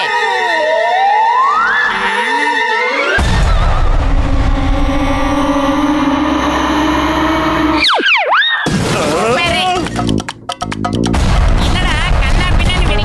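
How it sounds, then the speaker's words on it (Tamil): Bombs being detonated in a video game, with game sound effects including a sweeping tone followed by a loud sustained rumble and a burst of crashing, blasting noise. "இப்ப பாம வெடிக்க வச்சிடலாம்"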